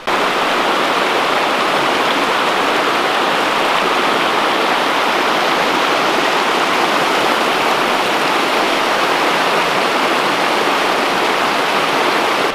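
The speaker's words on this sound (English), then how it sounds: "walking here next to the creek is really pretty" Continuous rushing water from a creek in Cataloochee Valley, a steady, dense hiss and burble that stays loud and unchanging throughout.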